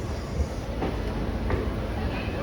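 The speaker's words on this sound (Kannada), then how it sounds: "ಪ್ಲ್ಯಾಟ್ಫಾರ್ಮ್ 1ಗೆ ಬಂದಿದೆ ನಮ್ಮ ಟ್ರೈನ್" The Kuvempu Express pulls into platform 1 at Hassan Junction, a continuous low rumble of rolling train wagons with faint clatter, heard steadily amid busy platform ambience.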